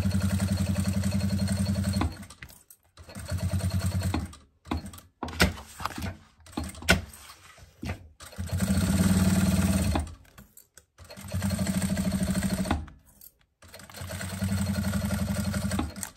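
A sewing machine stitches a passport holder in several separate runs, each a steady fast mechanical whir lasting a second or two, split by quiet gaps and short handling clicks.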